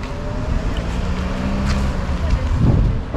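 Car traffic rumbles along Main Street in Bar Harbor, Maine, in February, a steady low engine and tire drone with a vehicle swelling past near the end.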